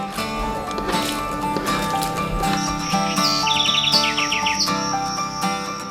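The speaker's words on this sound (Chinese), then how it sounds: "独享大自然，虫鸣鸟叫" Dense chorus of birds chirping and insects buzzing in the Amazon rainforest around floating wooden cabins on the water, with bright repeated calls over a steady layered hum, moderately loud and continuous.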